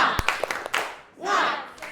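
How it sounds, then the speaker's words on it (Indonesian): Classroom students in a chemistry lesson perform a short rhythmic spirit clap, sharp separate claps in a quick pattern, followed by voices chanting together. "Untuk lebih bersemangat lagi, tepuk semangat."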